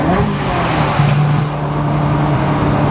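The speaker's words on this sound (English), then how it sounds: "I'm gonna downshift through this tunnel right here and give you guys a little bit of sauce." Ferrari F355 GTS engine revving and dropping through a downshift inside a tunnel, a loud close continuous roar with a steady droning tone that climbs briefly and echoes off the enclosing walls, no talk.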